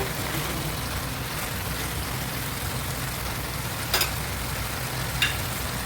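Fried fish goes into a hot pan of oil with a steady, even sizzle, with a couple of brief clinks of utensils partway through and no talking.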